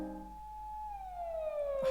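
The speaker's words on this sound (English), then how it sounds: "The sound of a loud blaring siren jolts me out of my thoughts." A wailing siren sweeps downward in pitch in the video game Doki Doki Blue Skies, fairly faint and brief, with a short burst of other noise at the end.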